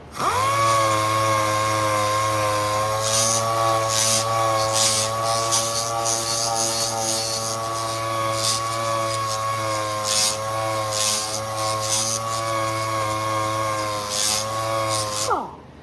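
Sanding the anodized finish off an aluminum side molding from a 1964 Ford Falcon with 320-grit paper on a power sander, a loud steady whine with a constant hum underneath, sustained for about fifteen seconds without speech.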